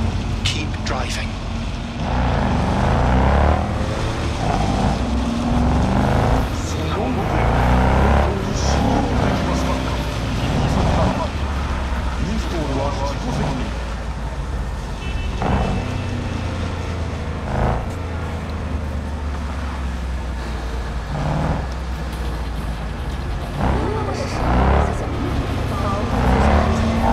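A car engine drones loudly and steadily while driving in Cyberpunk 2077, with revving swells and road noise throughout and voices talking over it.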